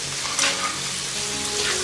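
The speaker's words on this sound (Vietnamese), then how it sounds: "xào khoảng 2 phút cho cua nó thơm" Mud crab stir-frying in butter and minced garlic in a hot pan, a steady close sizzle with a brief stirring scrape, no talk.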